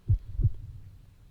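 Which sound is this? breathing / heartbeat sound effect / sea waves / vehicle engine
heartbeat sound effect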